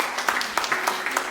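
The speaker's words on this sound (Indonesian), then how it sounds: "Berikan tepuk tangan bagi Tuhan." A church congregation claps in a quick, uneven burst of applause, with scattered sharp hand claps close by over a short moment.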